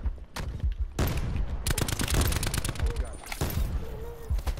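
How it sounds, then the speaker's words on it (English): Bursts of gunfire crack in Call of Duty Black Ops 4 Blackout, several sharp shots and short volleys spread unevenly through the moment, near and fairly loud. "he's shooting through the smoke"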